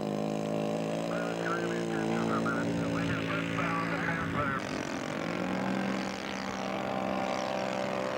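Scale model propeller plane at an air show, its engine droning steadily with harmonic whine and shifting pitch during a crosswind landing, mixed with crowd noise and talk.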